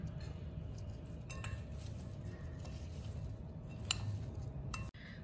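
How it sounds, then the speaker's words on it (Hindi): Spiced aloo chaat, potatoes with cumin powder and red chilli, gets mixed in a bowl, with soft squishing and light clinks of a spoon against the dish, fairly close and quiet. "और अब हम इन सब चीजों को दोबारा से मिक्स कर लेंगे।"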